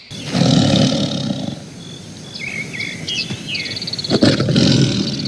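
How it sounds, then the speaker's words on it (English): A tiger gives a loud, deep roar followed by a second growling roar, with birds chirping in the background between the calls. "T for tiger."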